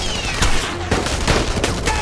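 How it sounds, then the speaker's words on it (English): Rapid Gewehr rifle shots in the World War II shooter game Enemy Front, several sharp cracks in quick succession over about two seconds, loud and close against faint background game noise. "I like the Gewehr, I have to admit. This is one of my favorite rifles."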